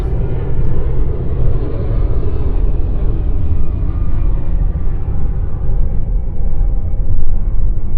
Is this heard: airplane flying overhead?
yes